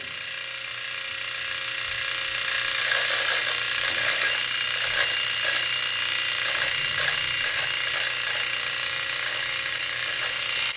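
A Philips Series 1000 S1332 cordless dry shaver trims a beard with a steady high buzzing whir and rhythmic ratcheting clicks as it moves over the stubble, close up with no talk.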